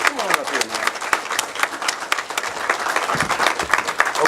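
An audience claps steadily for a man invited up on stage at a talk show about healing trauma, a dense, fairly close burst of applause throughout.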